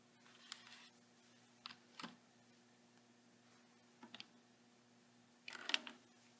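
Computer keyboard keys pressed while solving an angle-of-elevation math problem: a few faint, sparse clicks and taps spread over several seconds in a quiet room, with a small cluster near the end.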